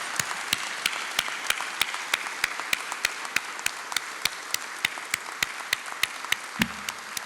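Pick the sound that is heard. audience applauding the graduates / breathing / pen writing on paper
audience applauding the graduates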